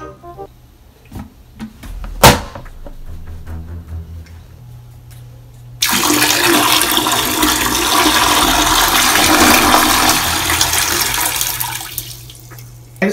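A toilet flushing close up: a few clicks and a sharp handle clunk, then a loud rushing surge of water that swirls steadily for several seconds before tapering off into a refilling trickle.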